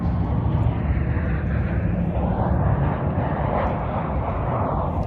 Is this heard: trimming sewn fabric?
no